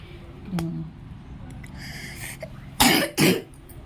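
Two sharp coughs from a child with a viral fever and cold, close together near the mic, following a few quieter sounds and soft background noise.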